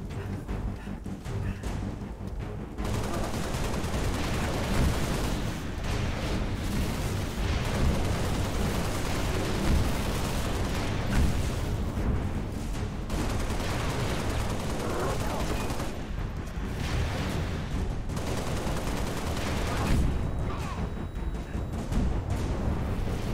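Dense, sustained gunfire and explosive blasts from Halo: The Master Chief Collection fill a long stretch of combat, loud and continuous with brief lulls, clattering weapon fire layered over rumbling low booms.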